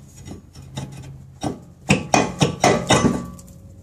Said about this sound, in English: Now to get the rotor off, a couple of whacks between the studs. Just to break the rust free.